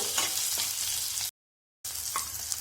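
Onions frying until deep brown for curd sambar, a steady broadband sizzle with a few stirring scrapes; the sound cuts out briefly mid-clip, then resumes just as before.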